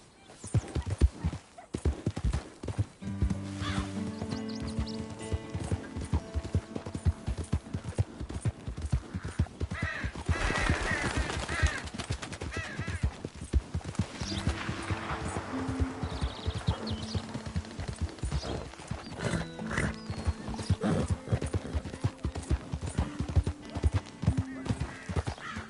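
Rhythmic hoofbeats of a horse galloping in the Red Dead video game, clattering steadily over a long stretch with music and game sounds behind, a neigh and brief voices mixed in.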